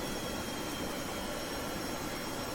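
F-15 Sea Eagle jet engines in the video game Kerbal Space Program, a steady broad roaring rush with a faint high whine, unbroken and fairly distant throughout.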